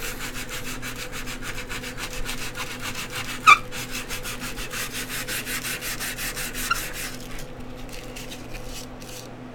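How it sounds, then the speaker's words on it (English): Sandpaper rubbing on a glass construct build, rapid even back-and-forth strokes close and moderately loud throughout, one sharp tap near three and a half seconds, the strokes stopping near the end. "that sandpaper's holding up really well"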